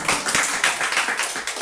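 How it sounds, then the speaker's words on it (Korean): Applause rising from a church congregation, a dense patter of many hands clapping together, fairly loud and steady for under two seconds, with no talking over it. "박수 한번 보내주십시오."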